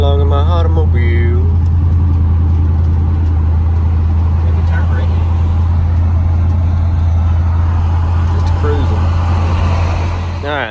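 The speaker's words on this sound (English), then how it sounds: "Riding along in my automobile." A Hummer H3 driving along, its engine and road noise forming a loud, steady drone for the whole stretch, with a voice over the top near the start.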